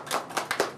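Audience applause at a community gathering at a Vietnamese Buddhist temple in Cleveland: a short burst of several close, overlapping hand claps.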